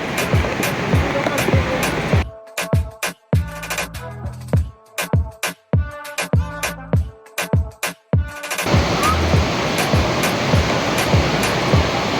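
Broadband rushing water roars steadily at Bhushi Dam, Maharashtra, at the start and end, with a middle stretch where talk and clicks break in and the roar drops away.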